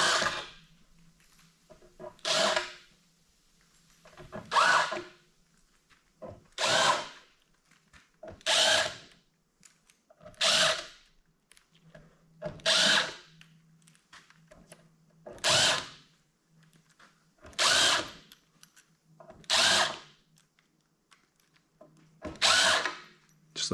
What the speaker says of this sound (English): it doesn't matter which screw head I hit with my screw gun